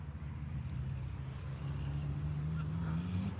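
Racing trucks in qualifying at Most, 2021, their engines droning steadily with a rising pitch under continuous commentary.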